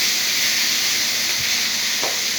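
Capsicum and ginger paste fry in a pan for veg momo filling, giving off a loud, continuous hiss and sizzle with a couple of faint stirring sounds.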